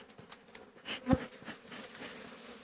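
Honeybees buzz steadily during spring hive maintenance, with one brief louder burst near the middle; no voices.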